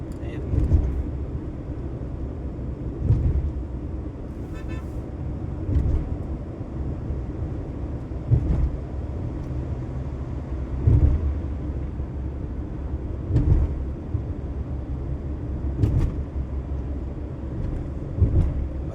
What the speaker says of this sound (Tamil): பெங்களூர் நைஸ் ரோடு மாதிரி செம்ம சல்லுன்னு போகுது பார்த்தீங்களா வண்டி